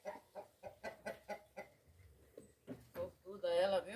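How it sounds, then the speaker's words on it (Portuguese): A hen being released from handling on a farm clucks in a rapid series of short calls, then gives a longer rising squawk near the end, fairly close with some quiet voices nearby. "soltando a galinha que não vai pra panela hoje"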